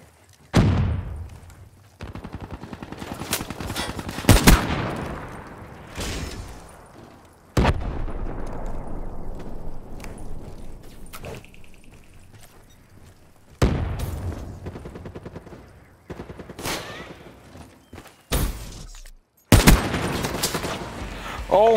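First-person shooter video game gunfire comes in loud repeated bursts and single shots separated by pauses, with booming impacts and a player talking between volleys.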